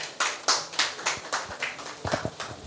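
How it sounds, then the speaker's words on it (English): A press conference audience gives a sparse, uneven round of applause, with a few individual claps standing out close by and a spread of lighter clapping behind, lasting a few seconds without any talk. "A round of applause, please"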